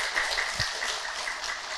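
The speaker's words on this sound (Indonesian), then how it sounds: "tepuk tangan dulu." Brief, even applause from an audience at a religious talk, a dense wash of clapping lasting under two seconds with one soft low thump partway through.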